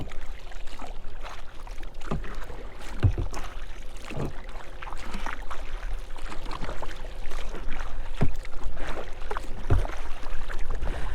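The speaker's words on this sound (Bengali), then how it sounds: "এবার একটু দ্রুত নৌকা চালে আমরা তীরের দিকে যাব।" A kayak is paddled across Mohamaya Lake, with a steady rhythm of paddle strokes and splashes against a constant wash of water and outdoor ambience, close by and without speech.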